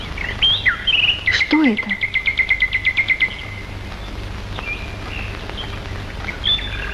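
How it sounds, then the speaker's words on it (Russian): A caged canary sings a bright, rapid trilling song up close, with a fast run of repeated chirps in the middle and short tweets before and after, while a brief spoken question occurs over it. "Вот канарейка."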